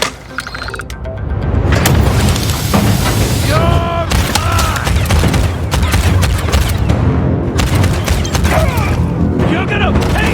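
Gunfire from shotguns and assault rifles in the video game Starfield, heavy booming shots and rattling bursts mixed with mechanical clanks and other game effects, loud and close, with a voice talking over them.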